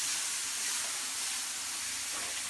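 Vegetables for a feta cheese noodle dish sizzle steadily in a hot pan, a continuous bright, hissy frying crackle with no talking over it.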